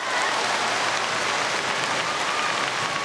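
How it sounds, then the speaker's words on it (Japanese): A large stadium crowd cheers and applauds as the women's marathon leader enters the Nagai athletics stadium at the 2007 Osaka International Women's Marathon, a continuous, loud, even roar of clapping and voices. "大声援に送られて、"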